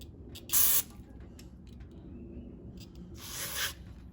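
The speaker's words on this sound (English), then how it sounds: "There's a little carburetor spray that got into my eye." Two short, sharp hissing bursts of carburetor cleaner sprayed onto a Kohler XT675 engine on a 2017 Craftsman lawnmower, close up, separated by a quiet pause with faint handling noise.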